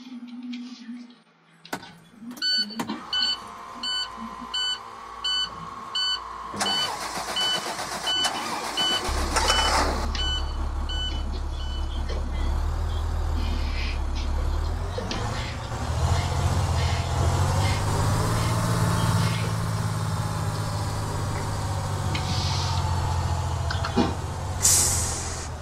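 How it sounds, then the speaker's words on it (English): A Maxforce DT diesel bus engine in the Rigs of Rods game cranks and starts after a few clicks and an air hiss, then settles into a loud, steady low idle rumble that holds to the end. "so that's the Maxforce DT startup"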